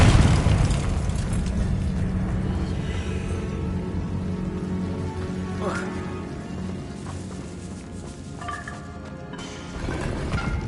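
A Confringo fire spell explosion in the Hogwarts Legacy video game, giving a booming burst at the start that rumbles on and fades, with a second blast near the end and speech mixed in.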